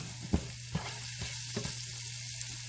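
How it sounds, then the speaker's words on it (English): Onions sautéing for chili sizzle steadily in a pan, with a few soft stirring knocks over the constant frying hiss. "we'll give this a couple more minutes to saute, to get translucent, become softer"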